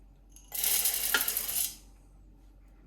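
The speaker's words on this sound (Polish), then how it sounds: "Na początek wrzucamy słonecznik" Shelled unsalted sunflower seeds pour into a container in one brief, dense rattling rush lasting about a second, close and fairly loud, then fading into quiet.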